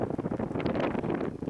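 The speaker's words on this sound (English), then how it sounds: "It's windy." Wind buffets a microphone on a desert road during a summer motorcycle trip between Death Valley and Mojave, a steady low rushing roar with gusty swells throughout.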